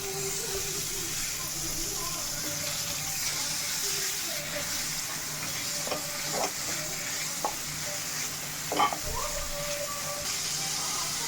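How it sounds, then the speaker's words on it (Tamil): Boneless chicken pieces sautéing in a pan give a steady, close sizzle with a few soft clinks and scrapes of stirring scattered through. "சிக்கனை இப்படியே ஒரு 2 நிமிஷத்துக்கு நல்லா வதக்கிக்கலாம்."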